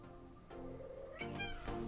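A cat meows faintly indoors, a short soft call followed by a couple of quick higher meows, heard alone without talk.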